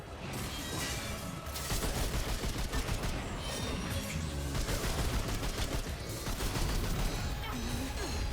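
Rapid enemy gunfire during a Remnant 2 video game boss fight, dense continuous volleys of shots over loud game sound and music, filling the whole stretch.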